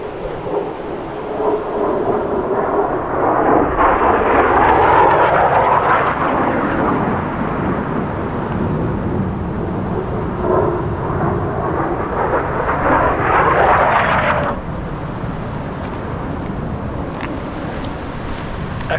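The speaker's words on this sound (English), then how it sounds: "F-35s are out." F-35 fighter jets passing overhead in snowy Lake District mountains near Scafell Pike, a loud broad roar that swells and shifts for about fifteen seconds before easing to a distant rumble.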